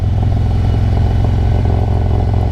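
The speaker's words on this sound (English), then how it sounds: "just let the engine braking work" A motorcycle engine drones steadily at low revs in first gear, engine braking on a steep mountain descent, a constant loud rumble with faint mechanical clatter and no talking.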